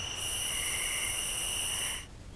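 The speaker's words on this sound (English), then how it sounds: "The tree frogs are coming out. You can hear those." Tree frogs call in bare early-spring woods beside a creek near the Chattahoochee River, a steady high trill that holds for about two seconds and then stops abruptly over quiet background noise.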